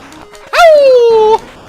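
A human voice imitates a whimpering dog with one drawn-out, sliding whine lasting under a second, loud and close.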